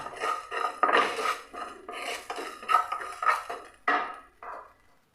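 Coarse rock salt scraped and stirred in a hot pan to dry it, giving a steady series of gritty scraping and rattling strokes, close and fairly loud, with no talking.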